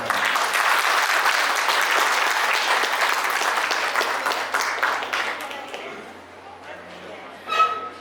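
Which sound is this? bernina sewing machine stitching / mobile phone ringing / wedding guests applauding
wedding guests applauding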